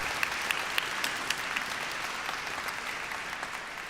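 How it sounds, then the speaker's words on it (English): Graduation ceremony audience in a large hall giving a steady, dense round of applause that holds at an even level throughout, with a few sharper claps standing out near the start. "a round of applause for all the consorts and partners who have bothered to turn up"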